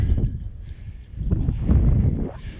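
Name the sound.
wind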